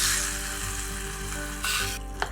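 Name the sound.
frying nutmeg and nuts for sweet pongal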